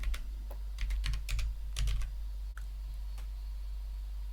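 Short, quiet bursts of computer keyboard typing sound as a search term goes in, with clusters of crisp key clicks, then a pause and a single later click over a steady low hum.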